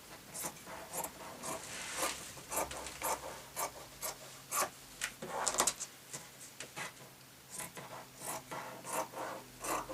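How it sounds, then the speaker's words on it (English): Scissors cut through fabric and wadding for a sewn tablet case, giving a steady run of quiet rasping snips and rubbing strokes that sound soft and close. "I'm cutting this with scissors so I don't spoil my cutting mat"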